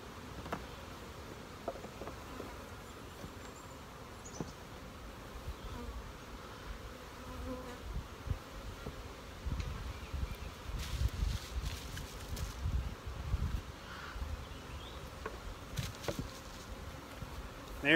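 Honey bees buzz in a dense, steady drone around an opened hive during a commercial colony split outdoors, with wind and rustling handling noises over the swarm, no talking.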